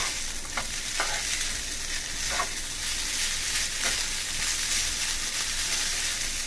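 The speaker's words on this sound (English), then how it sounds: "Stir that up, mix it up nice and even." Vegetable lo mein noodles fry hard in a pan, a loud, steady, close sizzle throughout, with a few soft scraping stir strokes breaking through and no talking.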